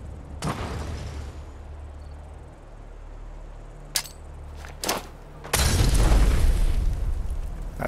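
A grenade blast in Fallout 4 erupts as a loud, close boom with a long rumbling tail, preceded by a couple of sharp pops and thuds against a steady background of insect-like chirping.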